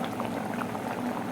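Parrot fish with malunggay leaves simmers in coconut milk in a pot, a soft continuous bubbling at low level for a brief moment.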